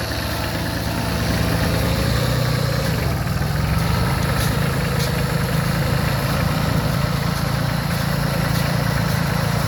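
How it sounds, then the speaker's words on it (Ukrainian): A Solis 26 compact tractor engine idles steadily with a low, even rumble and mechanical vibration, unchanging throughout, close by. "Трактор поранений, відвал цілий, трошки чистимо територію."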